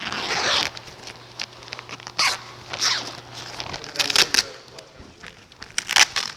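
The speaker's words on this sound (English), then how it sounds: "I'm gonna unzip you." A PPE protective suit being unzipped while doffing, giving several short rasping zipper pulls and crinkling of the suit material, close and moderately loud with brief pauses between strokes.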